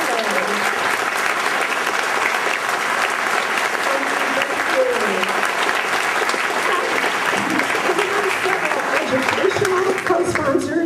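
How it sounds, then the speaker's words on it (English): Audience at a Darwin Day event gives the standing event workers a sustained, dense round of applause, steady and loud throughout, with voices mixed into the clapping. "let's have a big round of applause for the workers"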